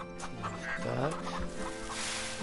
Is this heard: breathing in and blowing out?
no